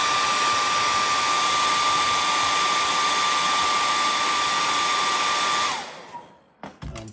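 A hair dryer drying paint on a hand-carved cedar waxwing bird runs as a loud, steady whooshing roar with a constant whine, then switches off and winds down, followed by a few soft handling knocks.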